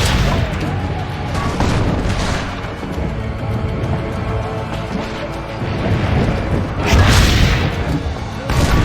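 Heavy booms of cannon fire and battle noise in an Assassin's Creed game, dense and continuous with repeated deep thuds, shouting voices over the din.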